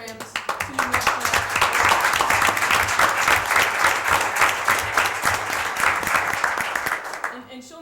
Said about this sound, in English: So I think she needs a round of applause too